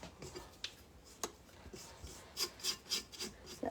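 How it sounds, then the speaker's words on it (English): Spatula scraping kolache dough down the sides of a stand mixer bowl, with a series of rough rasping strokes and taps that grow louder and more rhythmic toward the end, close and alone. "now I'm gonna scrape the bowl down again"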